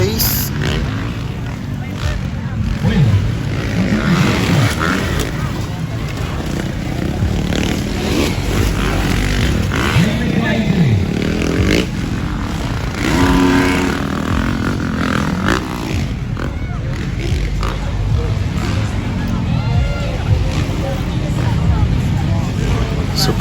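Yamaha YZ450F 2024 motocross bikes race in a 450cc intermediate class at an MX event, loud engines revving and accelerating continuously with crowd noise and a commentator talking over them.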